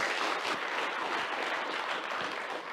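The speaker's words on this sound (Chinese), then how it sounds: "掌声欢迎，谢谢。" Audience applause fills the hall at a panel dialogue on post-pandemic wellbeing, a dense, steady wash of clapping that holds at an even level throughout with no voices over it.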